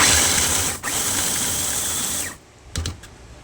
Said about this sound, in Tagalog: Ayan, gilingin na natin. Gawin natin pinong-pino.